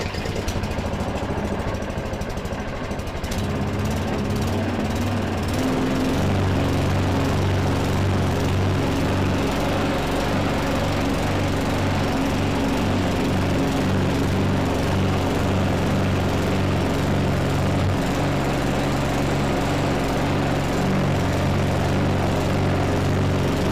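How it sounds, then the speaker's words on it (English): A primed petrol lawn mower with the choke on fires up on the first pull after long disuse and settles into a loud, steady, close running drone that continues without pause. "let me get it running for you"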